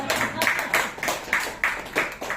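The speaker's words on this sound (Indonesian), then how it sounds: "Tepuk tangan dong biar pada senang." Rhythmic hand claps from an audience at a network-marketing seminar, about six evenly spaced beats, loud and close in a room with some background murmur.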